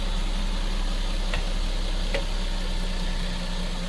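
A Toyota Soarer SC300 with a turbocharged 2JZ-GE engine idles smoothly and steadily, a constant low hum with a faint tick or two, no talking.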